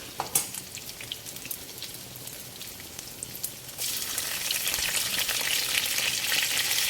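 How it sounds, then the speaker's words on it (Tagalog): Garlic sautéing in hot oil, at first a soft crackle with scattered pops, then a louder, steady sizzle as it fries close by. "magsusote na po tayo ng ating garlic"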